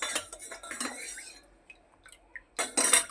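A spoon stirring salt into buttermilk in a glass or steel vessel, a few scraping clinks and taps, close and moderately loud, with quiet gaps between bursts.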